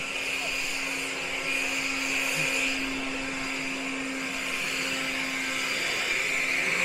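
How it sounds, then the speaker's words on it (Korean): A vacuum cleaner runs steadily while sweeping the stone yard of Bulguksa Temple in Gyeongju, a continuous whining motor drone with a constant hum that persists for several seconds. "이 불국사에서 마당을 쓰는데 저렇게 청소기를 갖고 마당을 쓸고 있습니다."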